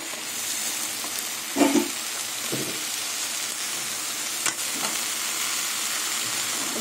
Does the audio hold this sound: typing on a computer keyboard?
no